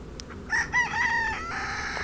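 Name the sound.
Cochin breed chicken crowing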